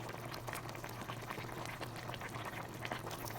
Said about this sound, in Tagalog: Papakulo lang po tayo dito ng saglit